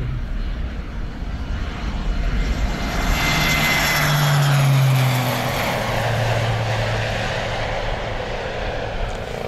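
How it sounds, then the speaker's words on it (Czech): A Piper Cheyenne 400 turboprop airplane drones overhead at an air show in Dvůr Králové nad Labem, its engine swelling and shifting in pitch as it passes, loud and continuous throughout. "po obloze pádil další skutečný letoun, tentokrát Piper Cheyenne 400."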